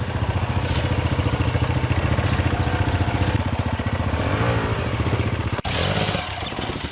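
Enduro motorcycle engine revving hard while climbing a rocky creek bed, a loud, continuous buzzing roar with throttle surges and clattering, briefly dipping near the end before pulling again.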